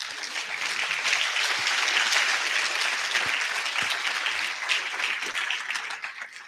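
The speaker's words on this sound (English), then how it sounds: "We've got to have a small pause for applause" Audience applause at a seafood industry forum, a steady, dense wash of clapping from a crowd that holds for several seconds and tapers slightly at the end, with no voices over it.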